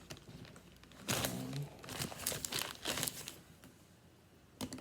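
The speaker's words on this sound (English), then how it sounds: "let me unwrap this thing and get into it" A 6-inch sub sandwich being unwrapped from its paper wrapper, with close, loud bursts of crinkling and tearing coming in uneven clusters and then going quiet near the end.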